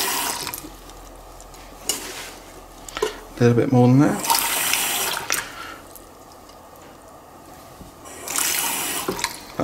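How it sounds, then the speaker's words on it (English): Cold water runs from a kitchen tap for a few seconds, a steady broadband hiss that swells and fades, while someone talks nearby during preparation of apple sauce for a crumble. "So I'm just going to use cold water out of the tap"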